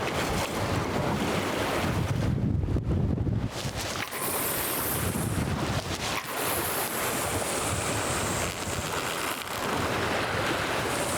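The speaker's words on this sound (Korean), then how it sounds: "그 바람이 굉장히 서늘해요 가을 바람처럼 등에 계속 바람을 맞고 있으니까" Strong southerly wind and two-metre whitecapped waves on the open sea off Wangdolcho reef in the East Sea, heard from a fishing boat: loud, continuous roaring wind buffeting the microphone over rushing surf, with no talk.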